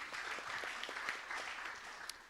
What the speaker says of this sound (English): give a big round of applause to yourself.